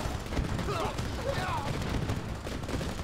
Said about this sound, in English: I have my artillery tanks taking care of that last sentry tower at the back